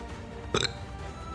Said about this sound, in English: I still have the hiccups, help.